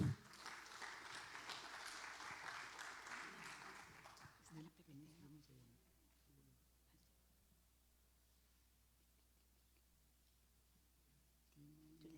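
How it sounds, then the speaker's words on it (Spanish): Applause at a national science and technology congress, a few seconds of audience clapping that fades out, followed by quieter room sounds and faint talk. "Un fuerte aplauso para ella."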